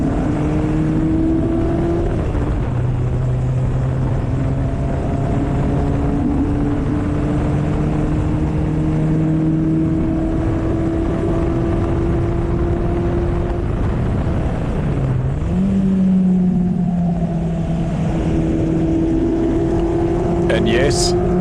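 A Formula Vee race car on track, held in third gear, drones loudly and continuously with its engine pitch rising and falling through the corners, plus a brief shift in tone near the middle.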